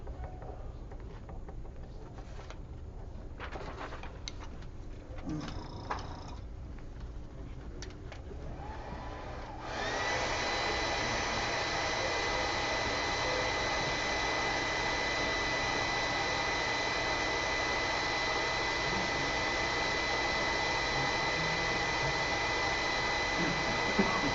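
Hair dryer blowing on winter camouflage paint during a painting demo, a steady broadband whoosh that switches to full power partway through and holds loud and constant to the end, with faint handling noises beforehand.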